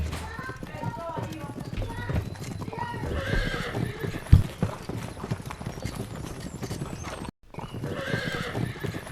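Horses gallop in a rapid, steady clip-clop with neighing in a dubbed martial-arts drama, loud and continuous, with music and voices mixed in and a brief dropout near the end.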